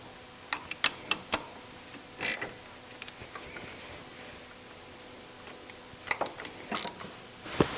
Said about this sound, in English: I'm just using a quarter drive wobbly 5mm Allen wrench socket to put them in and tighten them down